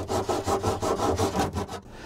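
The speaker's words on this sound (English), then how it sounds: "ABS pipe is easily cut with a common hacksaw" Hacksaw cutting through ABS plastic drain pipe, a rapid rhythmic series of close rasping back-and-forth strokes, about eight of them, then stopping.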